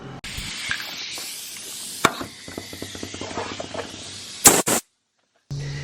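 Compressed air hisses in steady broadband bursts during a boost leak test on a Nissan SR20DET engine, with short clicks and taps between, then a louder burst before a sudden cutoff.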